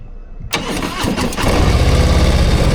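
A Harley-Davidson motorcycle engine cranks and catches after a short pause, then settles into a loud, steady idle close by.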